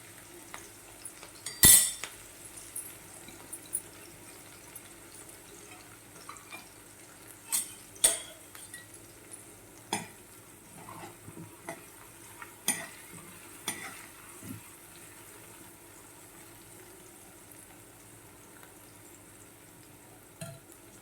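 Green garlic going into a pan on the stove and being stirred, with soft sizzling and sparse clinks and scrapes of a utensil against the pan spread across a quiet stretch.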